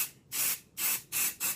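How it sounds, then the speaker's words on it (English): Unite 7 Seconds Refresher dry shampoo hisses from the can onto hair roots in four short, close bursts, each loud spray separated by brief pauses. "So I just spray my roots"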